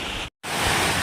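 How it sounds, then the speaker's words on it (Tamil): Steady broadband roar of a waterfall in the rainy hills of a Kodaikanal village, loud and continuous, with a brief cut to silence before the rushing water returns. "இங்கே பாருங்கள், ஃபால்ஸ்ட்டை வந்துட்டோம்."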